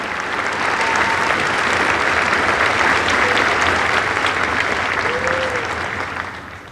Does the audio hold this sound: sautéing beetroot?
no